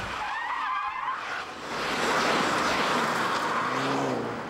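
A Saab 900 Turbo three-door sedan running raised tire pressure weaves through a snake manoeuvre, its tires squealing and skidding over a steady engine roar that swells loudest midway, with no one talking.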